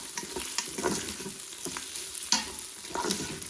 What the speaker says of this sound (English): just give it a quick stir, and then cancel your saute